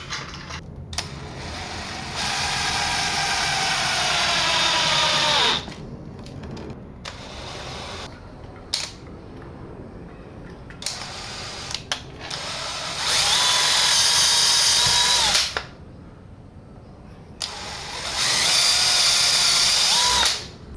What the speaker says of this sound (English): clamp it together and then screw it, so then we get a nice tight fit everywhere